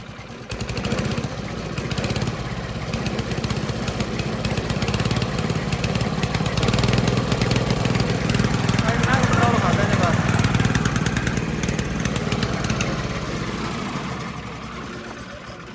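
A small engine fitted to a fodder chaff-cutter machine runs steadily and loudly at high revs, a continuous mechanical drone that holds throughout and eases off slightly at the end.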